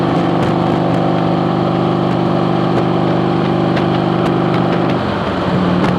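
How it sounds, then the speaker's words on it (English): A 2006 Harley-Davidson motorcycle engine drones steadily while riding along in fourth or fifth gear, a loud, close, even hum with a slight shift in pitch near the end and no talking. "this bike hums along really nice"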